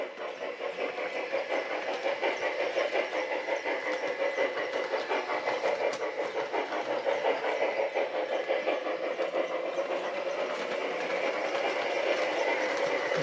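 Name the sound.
PIKO G scale digital steam locomotive chuff sound speeding up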